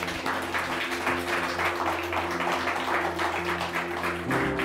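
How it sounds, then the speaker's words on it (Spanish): A church congregation applauds, a fairly faint, steady patter of many hands clapping over a low hum of sustained organ-like tones that shift near the end. "Vamos a darle un aplauso a ellos."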